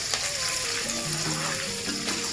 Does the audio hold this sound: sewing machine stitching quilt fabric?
no